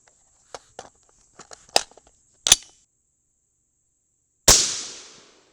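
Rifle shots from a .223 loaded with bulk bullets during a crimp test, with several light clicks and handling taps, then one loud, sharp report that rings out and decays over about a second.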